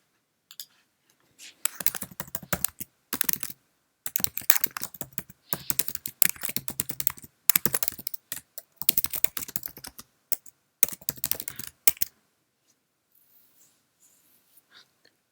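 Keys clatter on a Mac computer keyboard as a caption is typed, coming in bursts of rapid clicks separated by short pauses, close and fairly loud, then fading into near silence at the end.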